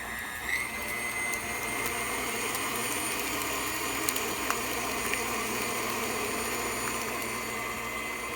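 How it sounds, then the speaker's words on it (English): A stand mixer or hand mixer whirs steadily as it blends chocolate chip cookie dough with butter, a continuous close motor drone that holds at an even level throughout with no talking. "Now I'm going to go ahead and mix these up."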